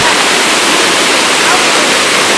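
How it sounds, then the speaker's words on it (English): The American side of Niagara Falls roars in a loud, unbroken wall of rushing water heard up close, with a voice faintly present under the torrent. "the energy, the power of the waterfall"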